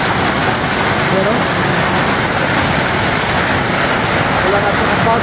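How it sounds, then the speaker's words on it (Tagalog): Heavy rain pouring down outside a window in a rural spot, a dense, loud, steady hiss of drops that never lets up. "Bumuhos din yung ulan guys."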